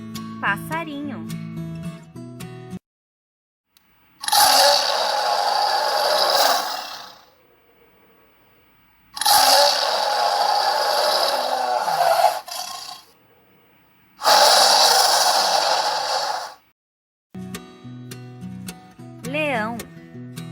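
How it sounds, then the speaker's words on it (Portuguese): Lion, three long rough roars or growls, each lasting a few seconds and separated by short pauses, loud and close, heard alone with speech before and after. "Leão."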